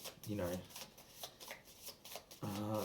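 A deck of channeling cards being shuffled, a close riffling flutter heard under a person talking.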